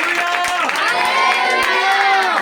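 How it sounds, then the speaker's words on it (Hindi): A church congregation at a preaching meeting claps loudly and cheers, creating a dense, continuous roar of applause and voices that fills the whole stretch. "एक बार जोर से ताली बजाकर परमेश्वर की महिमा करेंगे।"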